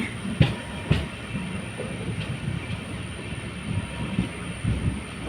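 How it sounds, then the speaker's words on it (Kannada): A train arriving at Mangaluru Junction rumbles along the rails with rhythmic clattering and knocking wheel sounds, moderately close and steady. "ಇದು ನಾವು ಬಂದ ರೈಲು"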